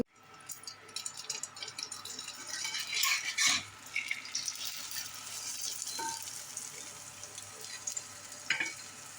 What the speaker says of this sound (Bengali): পেঁয়াজ মরিচ ছাড়াই ভাজবো দুটো ডিম ভাজবো